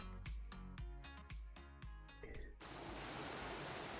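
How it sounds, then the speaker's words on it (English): A waterfall in Ashura Valley in The Long Dark roars as a loud, dense, steady rush of water. Before it comes in, a slow run of resonant piano-like music notes plays. "You can tell by the sound of the waterfall."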